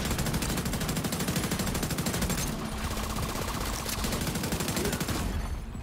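Sustained heavy automatic gunfire aimed at the player in The Division 2, a loud dense continuous rattle of rapid shots with no pause, no voices heard.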